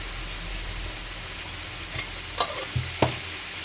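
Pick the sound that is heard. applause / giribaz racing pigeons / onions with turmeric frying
onions with turmeric frying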